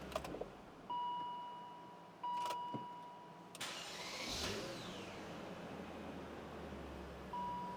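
A 1997–2003 BMW 540i E39 with a freshly installed starter cranks in short bursts, including a brief fast spin, with a steady engine hum and a faint electric whine in between.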